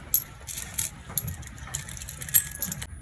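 Coins clink and jingle as a pile of change is dropped and counted, a series of scattered bright metallic taps with short pauses between them, close and fairly quiet.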